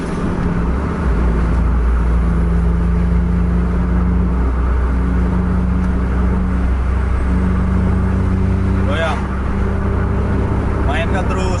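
A double-decker bus racing on a highway drones at full throttle, a deep steady engine hum with sustained tonal whine, nearby and loud, while people talk over it.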